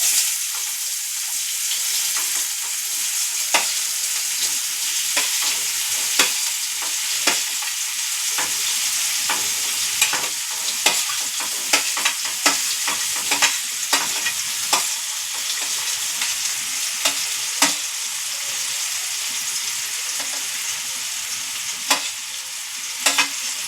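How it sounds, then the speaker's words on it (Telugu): Onions fry in oil in a pan for an egg curry, a steady bright sizzle broken by frequent scraping clicks and knocks as a utensil stirs them, close and continuous with no talking. "ఆనియన్ వేసుకుంటున్నారు."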